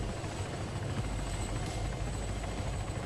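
A helicopter in the Arma 3 video game thrums with a steady, dense rotor and engine roar as it lands, loud and continuous throughout with no voices.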